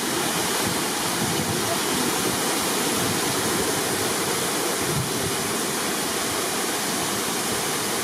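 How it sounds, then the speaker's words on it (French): Small waterfall at Penha Garcia, Portugal, where a channel carries water down from higher up, pours in a dense, steady roar that stays loud and unbroken throughout. "Et la petite cascade."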